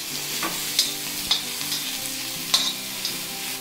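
Grated fresh coconut and garlic cloves fry in oil for a masala, giving a continuous soft sizzle with a few sharp scraping stirs of a spoon in the pan, close and without speech.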